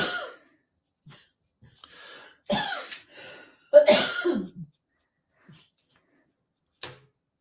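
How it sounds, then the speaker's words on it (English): Several harsh coughs in short bursts, separated by quiet pauses, close and fairly loud, with a few faint throat noises between. "Still got the cough"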